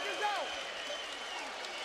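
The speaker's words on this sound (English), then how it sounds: "There's the Polish crowd." A Polish boxing crowd at the 2009 Tomasz Adamek vs Jonathon Banks fight keeps up a steady, dense roar of cheering and clapping. A commentator's voice talks over the noise throughout.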